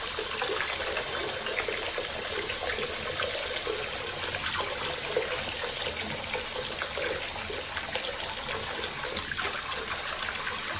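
Steady, full rushing of water running from a tap, rinsing soap out of a poly wig's hair. It flows on evenly without pause and no one speaks.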